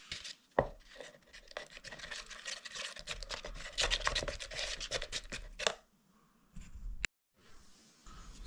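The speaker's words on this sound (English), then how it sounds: "just mixing it up with the hardener" Silicone and hardener are stirred and scraped by hand in a container for a mould, making close, irregular scratching strokes in bursts. A few sharp knocks break in, with quiet gaps toward the end.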